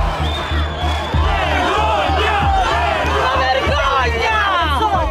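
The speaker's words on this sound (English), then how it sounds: "Outside the courthouse, an angry crowd expresses their outrage." An angry crowd gathered outside a courthouse in Italy, a dense, loud hubbub of many voices with shouts and whoops rising throughout, steady and close.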